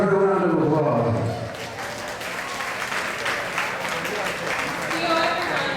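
Applause greets a student introduced at a school picnic event, starting under a speaking voice and then swelling into steady clapping from a small crowd at moderate distance, with talk at the start.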